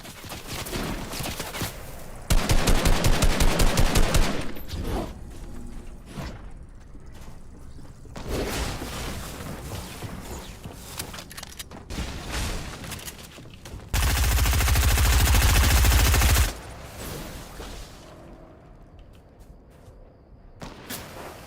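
Video game gunfire comes in several loud sustained bursts of rapid shots, broken up by sparser single reports and mechanical clatter, all without speech.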